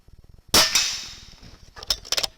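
An air rifle fires at a rat silhouette target, a sharp crack followed by a decaying ring, then a cluster of rapid clicks and taps, with a faint rhythmic ticking before the shot.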